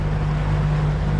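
A small motorboat engine runs offshore near the reef, a loud, steady outboard drone with a strong low tonal hum and wind-like hiss, unbroken and close.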